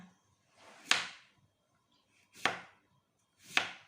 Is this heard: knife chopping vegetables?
yes